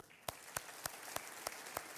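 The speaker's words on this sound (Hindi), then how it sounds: "मैं इनको अब स्वागत करता हूँ तालियों के साथ पहले," A studio audience on the set of the TV quiz show Kaun Banega Crorepati claps in a steady, evenly spaced rhythm. The clapping is faint and sounds like it comes from some distance.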